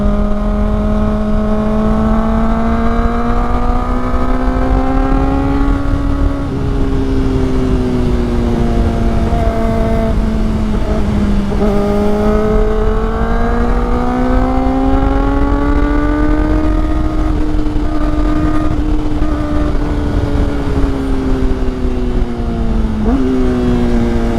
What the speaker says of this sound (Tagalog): Ingay nung aking motor.